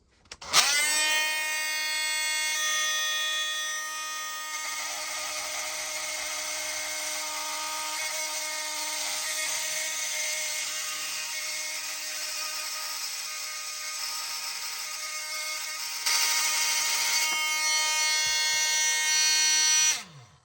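An Ozark oscillating multitool fitted with a new metal-cutting blade cuts 15 mm copper held in a vise, giving a loud, steady high-pitched buzzing whine that holds for about twenty seconds, rising slightly in intensity near the end, with no talking.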